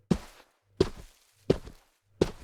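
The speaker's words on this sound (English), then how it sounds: "walking patterns, walking sounds for video games, TV, movies and so on" Four evenly spaced synthesized footsteps, made with the UVI Walker 2 plugin, thud on a hard surface, each a short heavy impact with a brief scuff trailing off, no other sounds.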